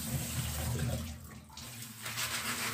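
Tap water runs steadily into a sink while small mourala fish are rinsed by hand, a close, continuous splashing wash with no talking.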